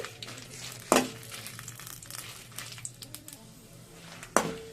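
Dried red chilies fry in a pan for Andhra gongura pachadi with a low, steady sizzle. Two sharp metallic clanks of a spatula against the pan cut through, one near the start and one near the end.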